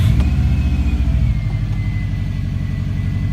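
Subaru WRX with an EJ20 engine cranking and starting, then running with a steady, loud low rumble and a faint whine, the pulse shifting slightly as it settles.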